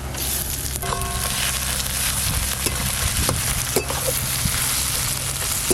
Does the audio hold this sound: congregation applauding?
no